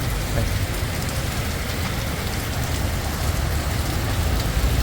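Steady rain pours down at a temple visit in Thiruvananthapuram, Kerala, a dense, even hiss of drops on surfaces that holds at a constant loud level throughout, with no voices.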